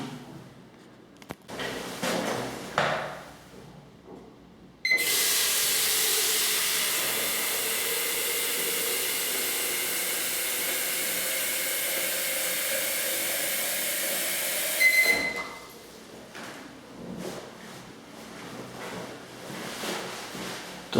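Water rushes steadily through a kitchen faucet aerator in a broad, even hiss for about ten seconds, turned on sharply and then shut off, with quieter handling noises before and after.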